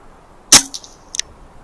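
An air rifle shot fired while hunting rabbits outdoors: a single sharp crack, close and loud, followed by brief fainter clatters and ringing a moment later, with quiet surroundings and no talk.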